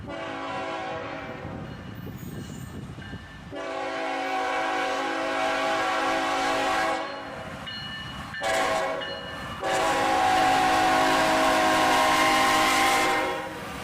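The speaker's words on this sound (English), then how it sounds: "we're back at Leo Street to wait for a Heritage unit, but this train showed up first" A freight train with a Tier 4 locomotive leading and another mid-train rumbles past close by, its horn blaring in several long blasts over the steady roar of the rolling wagons.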